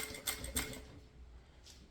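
A sewing machine stitches an insulated bottle bag, giving a short, faint burst of quick mechanical clatter with a couple of louder knocks, then fading to a quiet hum in a small room.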